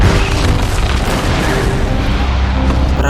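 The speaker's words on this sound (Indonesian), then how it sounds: "perahu milik Will pun meledak" Boat blowing up in a Pirates of the Caribbean film scene: a loud, continuous rumbling explosion filling the whole stretch with dense low boom and crackling debris, no voices.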